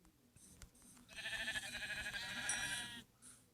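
Sheep bleat in a drawn-out, wavering call lasting a couple of seconds, fairly close and clear over faint outdoor background with no talking.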